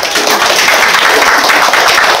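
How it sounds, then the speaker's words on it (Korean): An audience at a centre applauds its director with dense, steady clapping that stays loud and close, with no break, for about two seconds. "박수 한번 쳐주세요."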